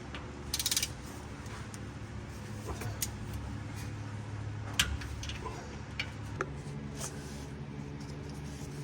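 Faint mechanical clicks and ratcheting ticks of a torque wrench tightening a bolt to 30 foot-pounds on a Ford F-150 repeat irregularly over a steady low hum, with a few sharper clacks of metal on metal.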